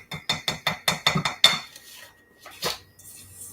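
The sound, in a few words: child stirring peanut butter mixture in a bowl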